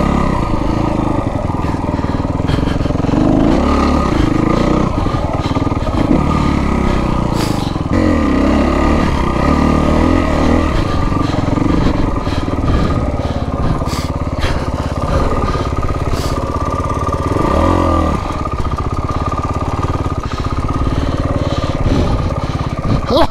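A Kawasaki KX250F dirt bike rides mountain trails at Rampart Range, Colorado, its engine revving and changing pitch continuously with clattering from the rough terrain, loud and close throughout.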